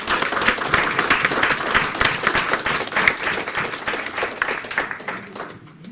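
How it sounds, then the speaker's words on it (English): Enthusiastic applause from a crowd, steady and dense clapping that tapers off toward the end. "I want you guys to give them a round of applause."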